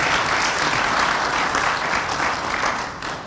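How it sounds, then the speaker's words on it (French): An audience gives a loud, sustained burst of applause at a grant ceremony in Togo, with close, dense clapping that fades slightly toward the end. "cela mérite d'être salué par tonnerre d'applaudissements de notre part"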